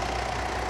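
Diesel engine of a 2021 Mitsubishi Triton with the 3.2-litre engine, idling in a steady, even rumble close by, heard alone without talk.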